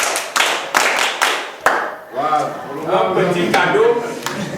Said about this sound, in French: Applaudissez pour la maîtresse.